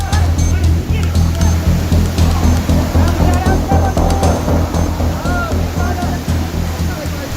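Strong flood waters surge during a rescue, a loud, constant roar of rushing, churning water close by, with a voice speaking over it.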